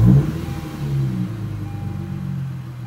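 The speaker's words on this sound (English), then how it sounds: "and then you're able to start the car." A Lexus fitted with an Apexi throttle controller starts up, giving a brief loud crank and catch before settling into a steady, low engine idle rumble that carries on evenly with no talking.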